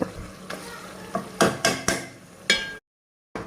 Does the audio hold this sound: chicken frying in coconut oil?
yes